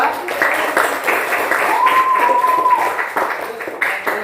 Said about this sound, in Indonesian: sudah beri tepuk tangan nomor 2